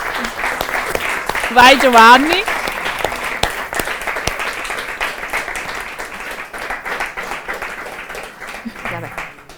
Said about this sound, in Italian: Un applauso al marito di Valeria Corciolani che porta i pezzi.